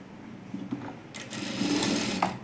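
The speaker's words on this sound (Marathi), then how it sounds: "आता हा आपण नेक पार्ट शिवून घ्यायचा" A sewing machine stitches the neck part of a princess blouse, starting with a few short tentative runs, then a louder continuous whirring burst of stitching before stopping.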